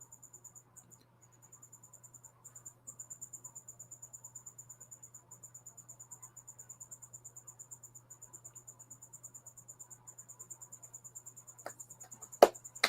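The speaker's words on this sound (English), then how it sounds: "Fitting crickets in the background" Crickets chirp steadily in the background during a live stream, a faint, even pulsing trill that runs throughout alone, with a couple of brief clicks near the end.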